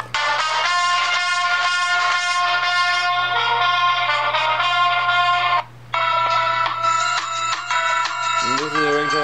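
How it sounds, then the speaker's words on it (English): A phone ringtone set for a contact plays a bright electronic melody of repeating chiming notes, loud and close, with a brief break partway through before a new phrase starts. "And then this is the ringtone for my cousin."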